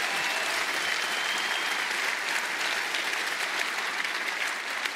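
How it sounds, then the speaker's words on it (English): A crowd claps steadily for sponsors at EVE Fanfest 2025, dense sustained applause filling the room for several seconds. "A round of applause for our sponsors."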